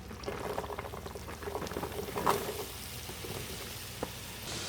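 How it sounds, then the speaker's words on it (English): Chopped onions and green peppers sizzle steadily in melted butter in a pan, a continuous bubbling frying hiss with a few soft clinks, fairly quiet, with no voices. "Now that the butter has pretty well melted, I'm going to add my onions and green peppers."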